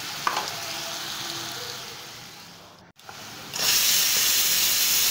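Garlic and green chili paste goes into hot tempered oil. A steady close sizzle cuts out briefly, then the frying returns louder and brighter, a hissing spatter that fills the rest of the moment.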